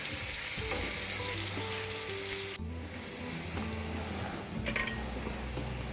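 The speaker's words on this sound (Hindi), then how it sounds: "हम प्याज को जब तक फ्राई करेंगे, जब तक इसका कलर चेंज नहीं हो जाता और ये सॉफ्ट नहीं हो जाते" Onions fry in oil in a pan for gobhi matar sabzi: a loud, steady, dense sizzle runs throughout, with a soft tonal melody faintly underneath and a brief clatter near the end.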